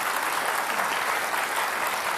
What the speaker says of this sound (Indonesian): Kita beri tepuk tangan untuk Pak Basuki Cahayapurnama.